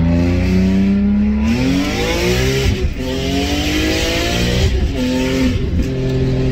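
BMW E46 M3 with a B-Spec tune and X85 flex fuel kit accelerates hard, its engine note climbing steadily through the revs, breaking off at a gear change and then climbing again, loud and close from inside the cabin.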